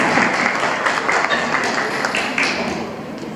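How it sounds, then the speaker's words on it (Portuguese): An audience at a ceremony applauds a guest, with dense, fairly loud clapping from a crowd that carries on steadily throughout. "Aplausos para Dr."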